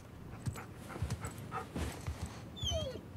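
A dog in the Uncharted 4 video game whimpers and pants softly in short bursts, with quiet game ambience and a faint higher whine near the end.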